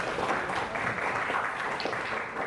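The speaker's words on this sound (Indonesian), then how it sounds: "Kasih tepuk tangan." A campus audience at a youth forum at UISU Medan claps steadily, a moderately loud crowd applause that holds for the whole stretch with faint voices underneath.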